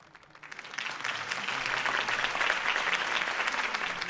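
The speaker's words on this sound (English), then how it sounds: "could have heard that applause" Steady applause from a crowd at a campaign speech in the video game Batman: The Telltale Series swells up in the first second and holds at an even level, a dense wash of clapping with no voices.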